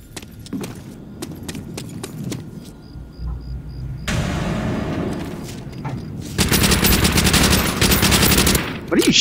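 Gunfire in a World at War Domination online match: dense machine-gun bursts and rapid rifle shots crackle almost nonstop and grow louder and heavier toward the end, with faint voices now and then.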